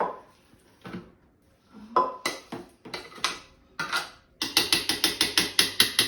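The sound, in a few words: food processor mixing custard with butter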